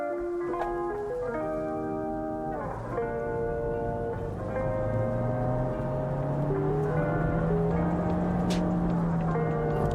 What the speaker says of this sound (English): this car apparently does 0 to 60 in around 8 seconds, which we're going to try and time